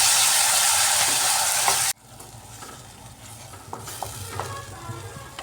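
Onions cooking with salt over medium heat in a pan, starting with a loud, bright sizzle that cuts off sharply and gives way to quieter frying with scraping stirs.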